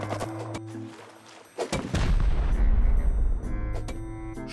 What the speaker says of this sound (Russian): Я пытался застроиться, а в меня летели какие-то ракеты.